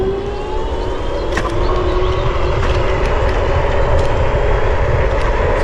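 A Dualtron Popular electric scooter accelerates in gear 5, its motor giving a steady, rising whine over strong rushing wind noise throughout.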